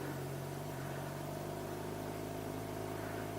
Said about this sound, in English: I'm giving it little throttle